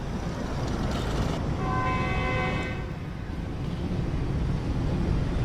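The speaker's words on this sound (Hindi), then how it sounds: "हॉर्न दे दिया है ट्रेन ने" A Khyber Mail (Tufan Mail) train horn sounds from about 1.5 to 2.7 seconds, a steady multi-tone blast over constant rumbling rail and carriage noise.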